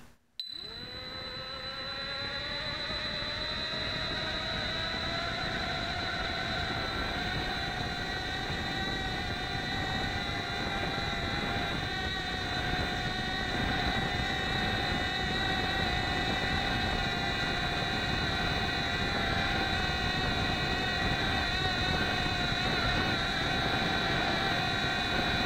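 A tiny Blade Nano QX quadcopter spins its motors up to full throttle while carrying a payload, a high, steady whine that rises sharply at the start and holds close and loud for the whole span.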